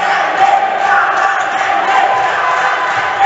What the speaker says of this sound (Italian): Sentiamo i tifosi del Carnello incitare Argentina